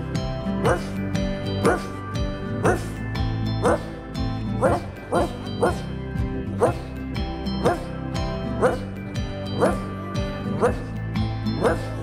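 Several voices rhythmically imitate a small dog's barking as repeated 'ruff' calls in a French children's song about a little dog, sung over steady musical accompaniment with regular, evenly spaced beats.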